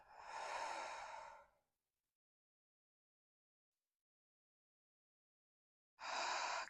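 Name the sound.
deep breath in and out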